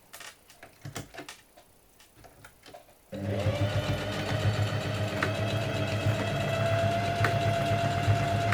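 Sewing machine stitching a folded fabric strap onto a bread bag, a steady, close, continuous mechanical whir that starts abruptly after a few seconds of quieter, scattered handling noise and runs on without pause.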